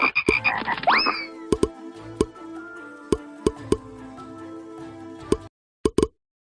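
Frogs croaking in short, sharp, separate bursts, with a few plops and a warbling sweep near the start, fairly close and clear against near silence.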